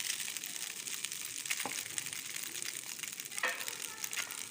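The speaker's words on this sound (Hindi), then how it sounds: "अब हम इसमें हैंडमेड जो सेवइयाँ हैं वो ऐड करेंगे इसी ऑयल में और मकरोनी इनको ऐड करेंगे और इनको हम स्टीर फ्राई करेंगे" Handmade vermicelli and macaroni stir-fried in hot oil: a steady, soft sizzling hiss broken by a couple of sharp scraping clicks from stirring, with no talking.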